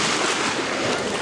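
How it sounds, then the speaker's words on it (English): Waves washing in at Magens Bay Beach on St. Thomas in the U.S. Virgin Islands, a steady close wash of surf with some wind across the microphone and no talking. "So this is Megan's Bay Beach in St. Thomas, U.S. Virgin Islands."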